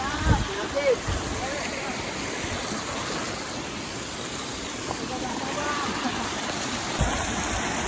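Boiling hot spring water running steadily on Gede volcano in Indonesia, a continuous close rushing and gurgling stream with a few brief knocks and splashes near the start.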